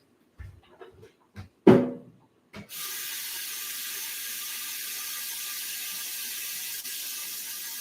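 A few clicks and knocks as a tap is handled, then water gushes steadily from the faucet into a container, a continuous hiss lasting several seconds with no talking.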